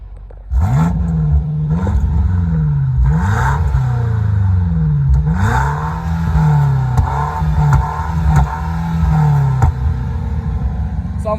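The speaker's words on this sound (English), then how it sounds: "Can you please rev it up for the people?" A BMW M8 Competition revs hard while stationary, its exhaust roaring through about five rising and falling throttle blips that build into a sustained, loud rumble close to the microphone.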